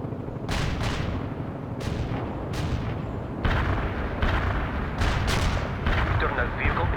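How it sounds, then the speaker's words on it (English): Artillery barrage in the video game World in Conflict: a rapid series of heavy, booming blasts with rolling rumble underneath, loud and continuous throughout. "Commencing the barrage."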